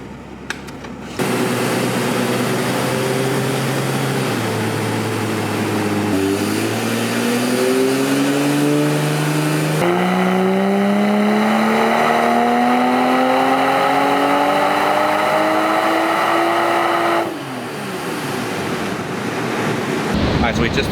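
A 2020 Toyota Supra A90 revs hard on a dyno in fifth gear, its loud engine note climbing steadily in pitch through a long pull for about sixteen seconds, with heavy roller and fan roar, then dropping off as the throttle closes.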